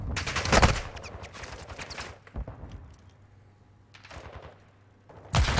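Bursts of automatic gunfire from a Halo esports match crackle loudly in several separate volleys, with quieter shots and game ambience between them and a final sharp burst at the end.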